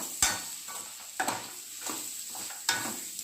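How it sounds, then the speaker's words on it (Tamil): Vegetables being stirred with salt in a frying pan while cooking spicy egg Maggi noodles, soft sizzling throughout with several sharp scrapes and knocks of the spoon against the pan. "நல்லா மிக்ஸ் பண்ணிக்கோங்க."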